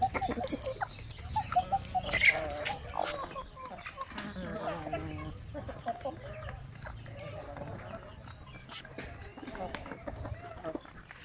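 Native chickens cluck and murmur in scattered short calls, moderately near, beneath someone talking almost continuously over them.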